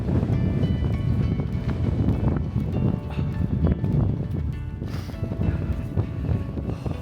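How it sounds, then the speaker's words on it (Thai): Strong wind buffets the microphone at a hilltop viewpoint above Qaqortoq, Greenland, a steady loud low roar with gusty swells lasting throughout and no talk. "ต้องเดินขึ้นมาลมแรงนะ ระวังด้วยนะเวลาเดินนะ"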